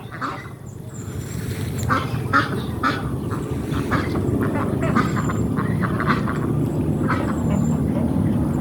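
Ducks kept along a canal quack repeatedly in a busy flock close by, their calls scattered over a steady outdoor background while a person talks.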